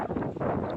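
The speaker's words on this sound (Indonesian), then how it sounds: "Angin." Strong wind buffeting a microphone at an outdoor bird-selling stall at Domas, a steady broadband roar with gusty swells and no talk.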